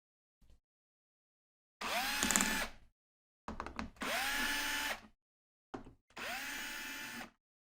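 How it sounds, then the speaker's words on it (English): A power driver removes Torx T15 screws from an mpower light bar lid, whirring in three short bursts, each rising quickly to a steady spin, separated by silent pauses. "We're going to need to go ahead and remove all the Torx 15s that are on the lid here."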